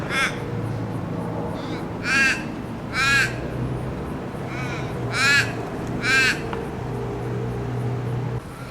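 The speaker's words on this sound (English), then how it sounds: "Hey there, little crow." A crow caws repeatedly outdoors, five or six harsh calls spaced about a second apart, fairly close and clear over a steady low background rumble.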